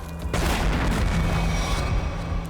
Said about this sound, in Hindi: लगता है कहीं धमाका हुआ है